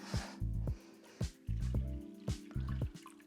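Water glugs into a cooking pot for a potato and lentil curry in short, repeated pours and splashes, close and fairly quiet, separated by brief pauses.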